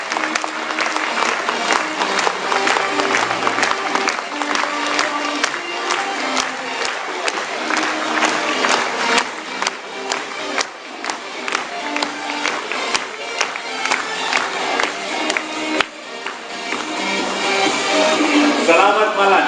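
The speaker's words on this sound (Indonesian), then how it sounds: "kita berikan tepuk tangan, kita sambut dengan tepuk tangan dan sambil berdiri kepada Bapak Kanwar Butani." Standing ovation in a hall welcoming a guest onstage, loud dense clapping from a large crowd sustained throughout with a few cheers and the shuffle of people rising.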